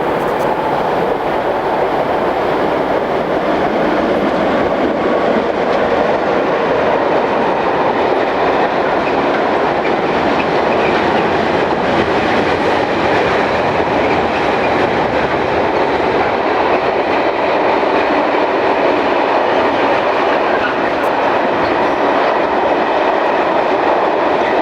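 Swiss Class 620 Re6/6 locomotive leading a train on the Gotthard route, with another locomotive banking at the rear, rumbles steadily past with a continuous loud roar of wheels and wagons and faint clickety-clack throughout.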